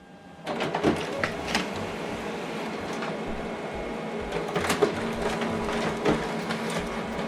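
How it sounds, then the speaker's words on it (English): An HP Color LaserJet Pro prints a document on both sides, giving a steady mechanical whir with occasional clunks and clicks as pages feed, close and alone. "So now this document is going to print out."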